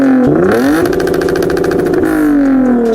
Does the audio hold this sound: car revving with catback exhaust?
yes